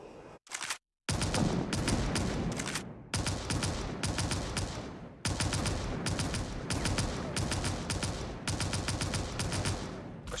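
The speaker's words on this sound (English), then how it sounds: "We're gonna use our weapons to take them out" Rapid weapons fire at bots in the Skyfront VR game, dense bursts of repeated gunshots in quick rhythmic runs with brief gaps, steady and close throughout.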